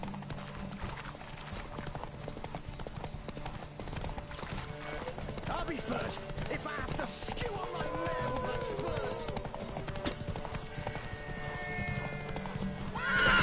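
Horse hooves clip-clop in a race in The Witcher 3: Wild Hunt, a steady rhythmic patter with occasional neighs and whinnies, heard against game music and ambience while someone talks intermittently.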